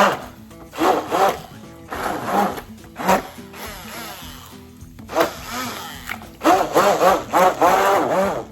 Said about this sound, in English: be careful when you're blending this. You don't want your sauce going all over the place now.